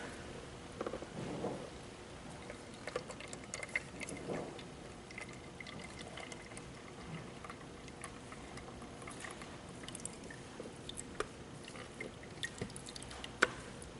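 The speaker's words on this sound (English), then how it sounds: "We'll see how much oil just pours naturally out of here." Loose motor oil dripping and trickling out of a fully saturated oil spill absorbent pad, a faint, irregular patter of small drops with a few louder spatters, no talking.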